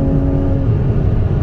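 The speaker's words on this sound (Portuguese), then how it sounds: "Eu tô no carro de corrida mesmo" A Porsche race car engine, heard from inside the car, gives a brief, loud, steady low drone of running motor without talk.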